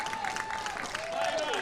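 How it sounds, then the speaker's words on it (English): A crowd at a pickleball national championship match cheers and claps in a brief burst, the applause spread as a dense wash while a commentator talks over it. "Now we got the crowd cheering."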